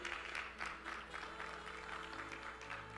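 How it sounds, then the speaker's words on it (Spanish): A church congregation claps together during a Spanish-language worship service, a faint, distant patter of applause lasting a few seconds with no voices over it. "Denle un aplauso al Señor, aleluya."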